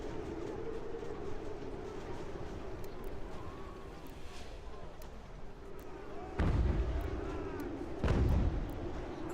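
Mortar artillery fire in the strategy game Ultimate General: American Revolution, a steady battlefield din with distant rumbling and two heavy booming blasts near the end.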